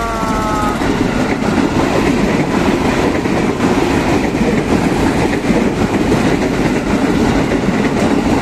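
A KRL commuter electric train roars past up close at a former level crossing on TB Simatupang, a loud continuous rumble with rail clatter and a brief horn-like tone at the start.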